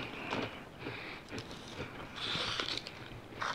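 Someone bites and chews a Japanese panda shortbread cookie up close, a string of crisp crunches and chewing clicks repeating irregularly at a quiet level.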